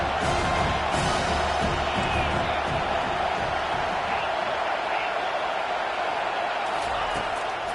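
Football stadium crowd roaring in support of the defense on a big third down, a broad, sustained wash of cheering and whooping that stays steady and distant, with a commentator talking over it.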